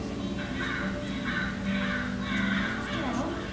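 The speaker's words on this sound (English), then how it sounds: "The American crow makes 3 distinct sounds." Several harsh, repeated American crow caws in short bursts, loud and fairly close, over a steady background hum.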